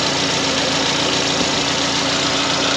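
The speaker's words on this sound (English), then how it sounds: "The engine is still cold. It has not reached operating temperature yet." A cold Volkswagen 2.0 litre engine idles steadily and close by, a continuous even hum with a faint rhythmic knock underneath and no talk over it.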